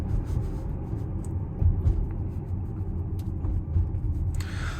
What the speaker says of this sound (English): I just want to take you on this quick little drive of this Model X from 2017